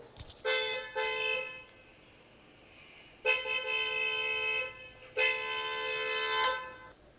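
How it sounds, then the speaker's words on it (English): A car horn blares in three long blasts, the first broken into two short toots, loud and close with quiet gaps between. "Suddenly, they heard the sound of the car again."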